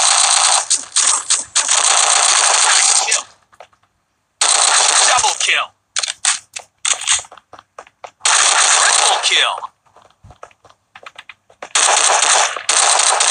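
Rapid automatic gunfire in a Netmarble online shooter game, coming in several loud sustained bursts separated by short pauses and scattered single crackling shots, with players chatting over it.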